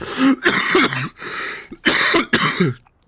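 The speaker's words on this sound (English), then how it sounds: "I'm coughing" A series of harsh, wet coughs in close succession, loud and near, with brief pauses between bursts and no talking.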